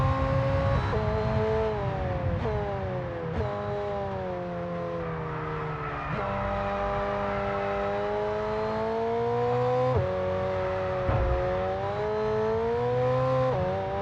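Supercar engine in the F1 22 racing game, revving up and down through repeated gear shifts, each rise in pitch cut off by a short drop, with occasional tyre squeal, running loud and steady with no talking.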